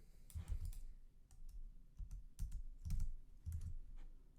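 Keys clack on a computer keyboard as Python code is typed in short bursts, close and clear, with brief pauses between groups of presses and no talking.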